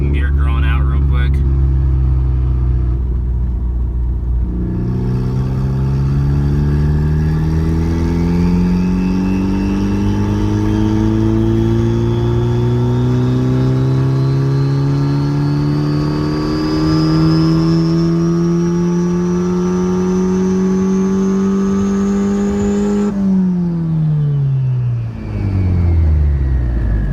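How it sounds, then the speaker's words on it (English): A Mazdaspeed 3 engine revs hard through a second-gear pull, its pitch climbing steadily for about twenty seconds before the revs drop sharply, loud and close throughout. "So this one we're just gonna get a second gear drawn out real quick."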